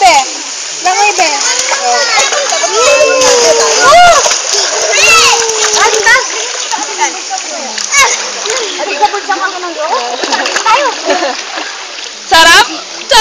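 Water splashes repeatedly and irregularly nearby as a child swims, while children's voices chatter and squeal throughout, with some brief louder bursts.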